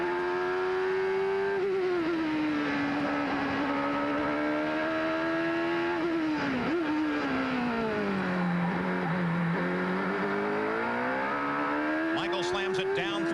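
An IndyCar race car driven down the hill through the corkscrew at a 1991 road course, its engine note holding steady and falling as it downshifts, then rising again and ending in rapid gear changes, loud and close.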